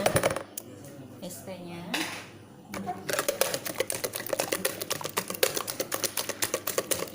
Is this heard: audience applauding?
no